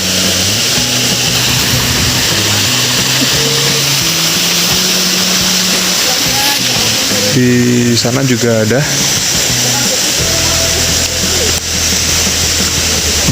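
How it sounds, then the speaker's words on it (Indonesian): A waterfall rushes with a steady, loud roar throughout, while a person talks over it and an engine hum comes and goes. "Ini kalau istilah bahasanya tuh curug atau air terjun."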